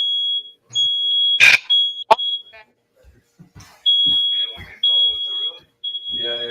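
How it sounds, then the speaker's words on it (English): A smoke detector alarm shrills in loud, piercing high beeps that keep breaking off and returning, close to the listener, while people talk and shout between and over the tones. "There's a smoke detector prank."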